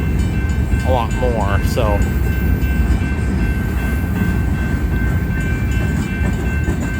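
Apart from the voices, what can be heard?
UP 8860 manifest freight train picking up speed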